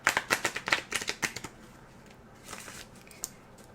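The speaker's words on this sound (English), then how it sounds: "But I'll shuffle one more time and we'll see what comes up." Tarot cards are shuffled by hand in a quick run of crisp riffling snaps, then a pause and a few softer shuffles, all close and without talk.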